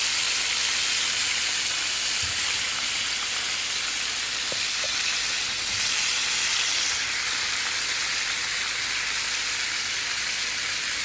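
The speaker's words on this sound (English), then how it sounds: "while I have the oxtail browning" Oxtail browning in a hot pan gives a steady, dense sizzle that runs unbroken and fairly loud, with a few faint clicks under the frying and no one talking.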